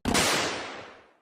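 Explosion sound effect from a Genshin Impact scene: one sharp, loud blast that hits at once, then a rumbling tail fading over about a second.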